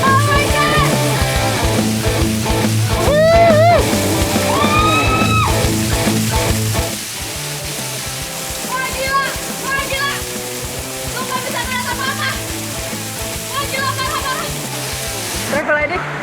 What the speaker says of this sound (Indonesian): rappelling di bawah guyuran air terjun ini bakal jadi sensasi tersendiri